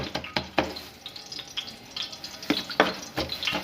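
Hands dab water onto aloo naan before it goes on a tawa, making scattered wet slaps and splashes in an uneven rhythm, close and fairly quiet.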